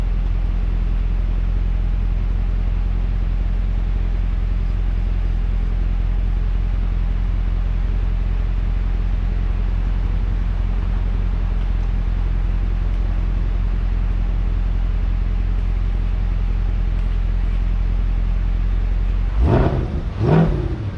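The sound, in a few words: 2021 Chevy C8 Corvette engine accelerating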